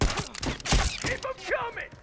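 Automatic turret gunfire in The Last of Us Remastered, a burst of rapid shots over the first second and a quarter, mixed with game effects and players' voices talking over it.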